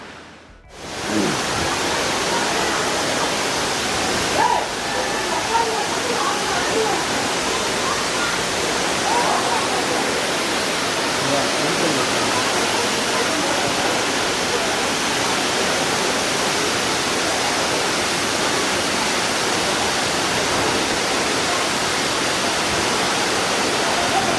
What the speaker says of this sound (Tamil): அருவி கிட்ட வந்தாச்சு